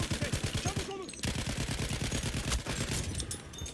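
Rapid automatic gunfire from a gun in the video game Battlefield 1 rattles on almost continuously, with a dense, even rhythm of closely spaced shots.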